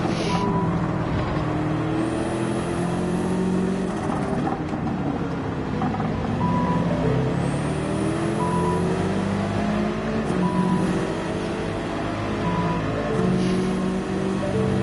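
A Subaru BRZ engine in Gran Turismo 7 drones steadily and loudly throughout, its pitch rising and falling with gear changes and shifts in throttle.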